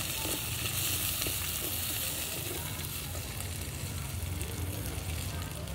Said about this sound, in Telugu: పచ్చిమిర్చి బాగా వేగాక ఎండుమిర్చి చేయాలి, తొందరగా వేగిపోతాయి.